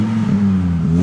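A naturally aspirated Volvo five-cylinder engine revs up close and loud, its steady throaty drone holding for about a second with a slight rise in pitch near the end.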